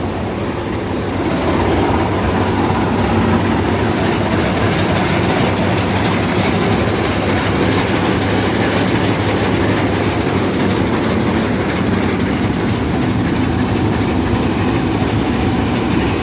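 A Palesse 812SX combine harvester runs at harvest with a loud, constant engine drone and a dense mechanical rumble and rattle, close by and unbroken throughout.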